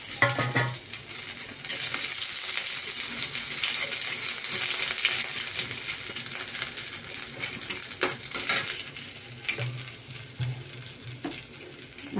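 Ginger paste and chopped ginger fry in a pan for a simple vegetarian curry, giving a steady close hiss and sizzle with intermittent scraping of a stirring spoon and a few clinks, no voices.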